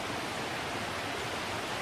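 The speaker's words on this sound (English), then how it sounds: "right next to the creek right now" A creek beside a hiking trail in the Smoky Mountains rushes steadily and close, a dense, even wash of flowing water with no voices over it.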